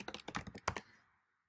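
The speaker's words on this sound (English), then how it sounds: "Click in the field, and then you can start typing in right away." Quick clatter of keys typed on a computer keyboard, a short burst of close, crisp clicks in an irregular rhythm that stops after about a second, with no talking.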